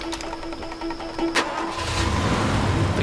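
A car engine in the game Far Cry 2 cranks and catches, a sharp mechanical click followed by the motor rumbling to life and settling into a loud, steady idle.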